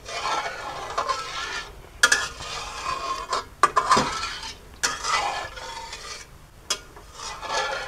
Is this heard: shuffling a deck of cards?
no